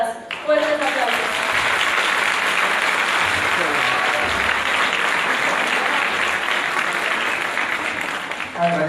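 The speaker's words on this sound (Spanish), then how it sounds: "Fuertes aplausos." An audience in a theatre gives strong, sustained applause at a tribute event, a dense wall of clapping that holds steady for several seconds, with a voice briefly audible near the start.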